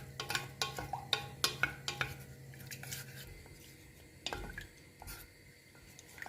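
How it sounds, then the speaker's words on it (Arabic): A spoon clinks and scrapes steadily against a pot while stirring a flaxseed mixture on the stove, a rhythmic run of close metallic taps early on, then quieter stirring with a few sharper knocks, no talking. "ضروري تحركوهم باش ما يتلعبكوش، يشدوا في بعضهم حتى يغلي."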